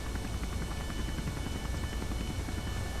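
A helicopter flies high over mountains in Kerbal Space Program, a continuous close rotor drone with rapid steady chopping and a thin whine, loud and alone.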